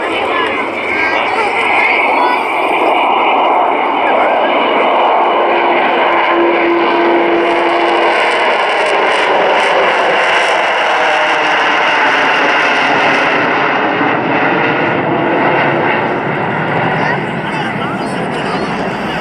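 Avro Vulcan XH558 jet bomber making a flypast at Church Fenton, its broad engine roar filling the whole stretch loudly and steadily, with crowd chatter mixed underneath.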